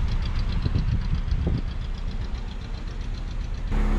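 A 1977 Datsun 710, pulled from a salvage yard, idles with a rough, steady low rumble and slight uneven knocking, close and continuous, with a brief sharper change in tone right at the end.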